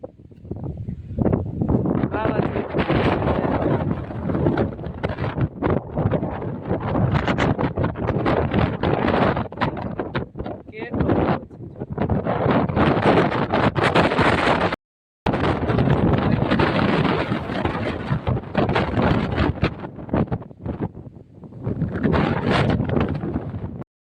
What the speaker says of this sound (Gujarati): બહુ જ પવન છે અત્યારે.